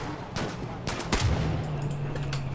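Gunfire in Far Cry New Dawn comes as several sharp shots spread across a short stretch, with a low rumbling tone and game sound beneath.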